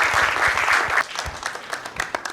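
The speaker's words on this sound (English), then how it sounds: "Please, let's give him a round of applause." An audience at a Leventis Foundation Nigeria alumni formalization ceremony applauds, a dense burst of clapping that thins to scattered claps within a couple of seconds.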